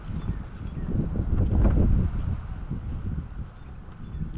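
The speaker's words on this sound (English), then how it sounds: "this wind is driving me nuts." Outdoor wind buffets the microphone in low, uneven gusts, swelling to a stronger burst midway before easing, with no talking.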